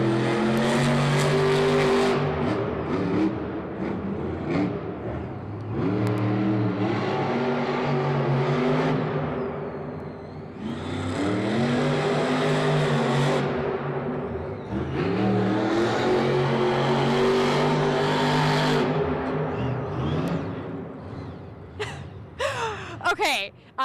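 The Max D Fire monster truck at a Monster Jam event roars loudly in repeated long revving surges that rise and fall, with crowd noise and excited voices mixed in over the engine.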